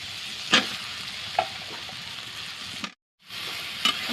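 Water lily stems sizzle in a pan with fried shrimp as they are stirred, a soft steady frying hiss broken by a few sharp clicks of the spoon and one brief silent gap.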